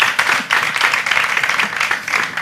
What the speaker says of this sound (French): Tout d'un coup, les applaudissements sont maigres.